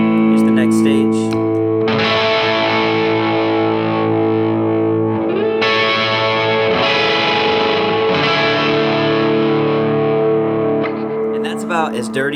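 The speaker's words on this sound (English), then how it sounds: "Kick in the next gain stage, so here's just the Morning Glory." Electric guitar through a Morning Glory overdrive pedal at its next gain stage, with the tone knob near three o'clock: sustained, gritty overdriven chords ringing out loud and close, with several strummed changes.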